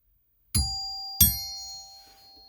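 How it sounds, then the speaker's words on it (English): Two bright doorbell dings ring out about a second apart, each leaving a clear, slowly fading metallic tone in an otherwise quiet space. "We got to do the doorbell, right? I've got my dinger."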